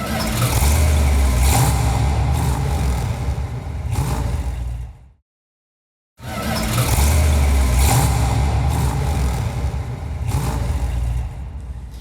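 A Mopar car's engine runs at close range as the car is driven in, a rough, loud throb with surges of revving, then an abrupt full silence before the same engine sound returns.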